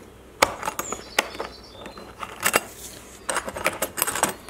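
A plastic tool case with steel handles being opened, giving a busy run of sharp clicks, clacks and metallic clinks of latches and handles, close and fairly loud, with no talk.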